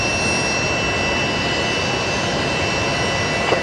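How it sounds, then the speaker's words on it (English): Fokker aircraft engines run during pushback at Brisbane Airport, a loud steady turbine roar with a thin high whine held through the whole stretch, no voices over it. "Oh, that Fokker, how good does that sound?"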